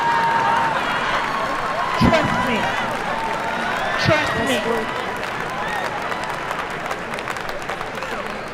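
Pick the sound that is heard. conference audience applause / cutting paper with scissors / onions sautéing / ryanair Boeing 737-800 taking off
conference audience applause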